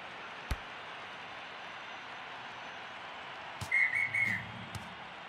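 A referee's final whistle at a rugby match sounds as a short, shrill blast over a faint, distant crowd murmur, followed by a couple of sharp clicks.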